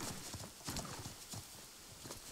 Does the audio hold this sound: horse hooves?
yes